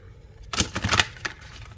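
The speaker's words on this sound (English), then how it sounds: "I'm going to shuffle and get 3 cards" A deck of long tarot cards is shuffled in a quick burst of papery flicks and riffles lasting under a second, close and fairly loud, with no talking.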